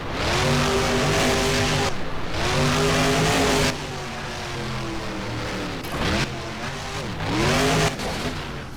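A monster truck engine roars loudly and steadily in BeamNG on the Lightningscape freestyle ramps, revving up and down in long sustained surges with brief dips and occasional tire noise.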